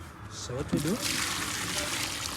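Water is poured into a container holding leaves, a steady splashing wash lasting a couple of seconds, with voices talking briefly near the start.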